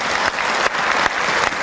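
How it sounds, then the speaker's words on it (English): A debate audience at the 2016 Essex County Sheriff Democratic primary breaks into brief, loud, dense applause. "you ought to give yourself a good round of applause"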